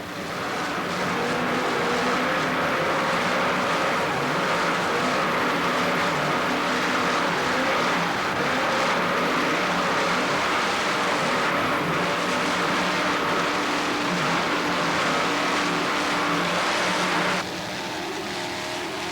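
A racing powerboat driven by twin 840 hp Mercury inboard engines roars steadily at high speed, the loud sustained engine drone dropping slightly in level near the end.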